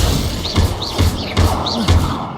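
A Glacius ice spell is cast during combat in the Hogwarts Legacy video game, with a series of about four heavy thuds, each paired with a short swooping magical tone, at a steady, fairly loud level.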